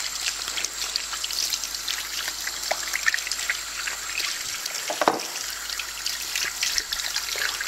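Parts of an Omega Sana juicer are rinsed under running water, with a steady trickle and splash that swells into a brief louder gush midway, close and alone.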